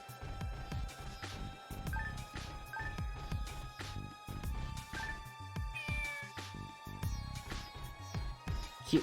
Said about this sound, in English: Cute little kitty there.